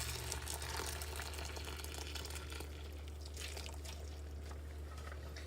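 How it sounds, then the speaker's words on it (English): Boiling water pours from a pot over tomatoes in a home kitchen, a steady splashing trickle running continuously under a low background hum. "I'm going to come over here and pour it on the tomatoes"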